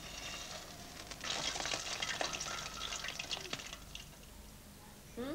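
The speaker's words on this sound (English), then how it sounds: "Gulab jamun, as it is called, is then deep fried." Gulab jamun dough balls deep frying in hot oil, a steady bubbling sizzle with stirring and scattered drips, moderately close, continuing evenly throughout with a brief splashy scrape near the end.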